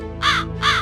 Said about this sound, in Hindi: आपके आंगन में बार बार एक कौवा आकर बोल रहा है।